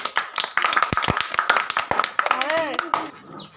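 Applause for the winner of a village competition among boys and girls: scattered hand clapping runs under loud, continuous talking.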